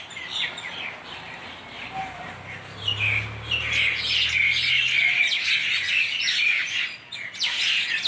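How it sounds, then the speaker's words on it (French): Many birds chirp and tweet continuously outdoors, bright overlapping calls that grow busier midway, with a faint low hum underneath for a few seconds and no speech. "écoutez-moi ces oiseaux."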